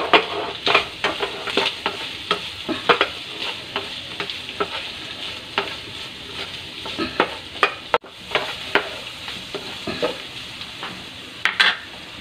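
A spatula scrapes and stirs food frying in a pan seasoned with soy sauce, pepper and seasoning, giving a constant sizzle broken by quick rhythmic scraping strokes and a few metallic knocks, close and with no talking.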